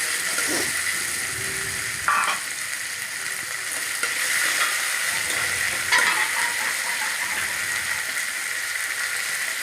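Ginger and green chili paste with spices fry in hot oil, sizzling steadily with a few louder bursts as the mixture is stirred and scraped in the pan, close up and without any talking.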